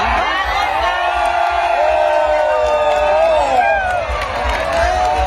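A crowd cheers and claps at a Bang Fai rocket launch in Kalasin, a steady roar of applause and whoops with a rising whistle-like tone sweeping through the din.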